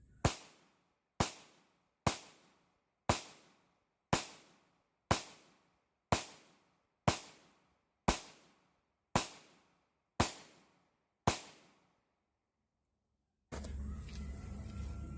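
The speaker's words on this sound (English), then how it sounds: "I'm going to shoot this at the orange target there." Twelve sharp pistol shots from a Ruger Max-9 fired at a steady rapid pace toward an orange target outdoors, each crack loud and close with a short decaying echo, followed by a burst of broadband noise.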